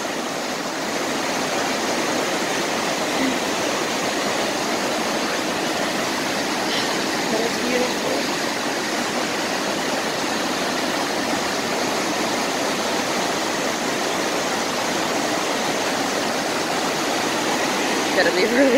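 A waterfall roars as a steady, loud, broadband rush of falling water that never lets up, heard up close for the whole stretch with no pauses and no voices on top.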